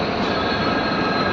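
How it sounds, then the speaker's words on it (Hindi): The Tirunelveli Express pulls out of platform 2, a loud, steady rumble of rolling railcars and wheels on track right beside the listener, with no voices. "और देखते ही देखते अपनी तिरुनेलवेली एक्सप्रेस भी निकल चुकी है अपनी प्लेटफॉर्म नंबर 2 से"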